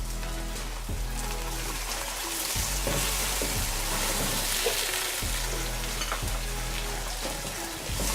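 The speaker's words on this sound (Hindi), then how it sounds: "और इसमें प्याज डाल के इसको लाइट पिंक करेंगे।" Onions sizzle and fry in a pan as the base for achar gosht, a dense, steady hiss close by with a few soft stirring knocks and no talking.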